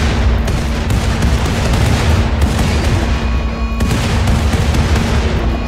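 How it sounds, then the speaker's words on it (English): Orbital bombardment strikes in the video game Rimworld, a loud continuous barrage of heavy booming explosions and deep rumble with brief dips between blasts. "There's also a orbital bombardment targeter, which in addition can also be only used once."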